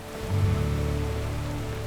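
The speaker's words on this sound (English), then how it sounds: "We usually get some moisture in May, but not like a heavy, heavy rainfall like this." Heavy spring rain beating down on plants outdoors, a steady dense wash of noise with a low rumbling undertone throughout, no voices.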